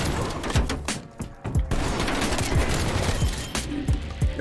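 Shotgun blasts in Call of Duty: Black Ops Cold War, a run of loud, sharp booms spaced roughly every half second to second over a dense, continuous game soundscape.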